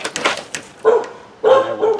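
Dogs barking nearby in short bursts, sharp barks interspersed with higher yips, loud and close, heard while a Poulan Pro PP25E string trimmer is being worked on, with no talk.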